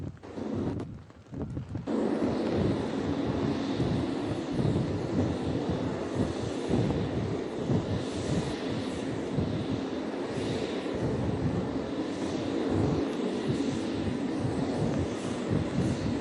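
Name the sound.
F-18 jets diving in a strafe pattern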